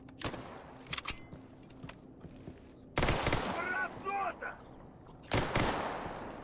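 Gunfire in Stalker Gamma: scattered loud shots, a short burst near the start and louder volleys around three and five seconds, separated by quieter stretches of ambient game noise.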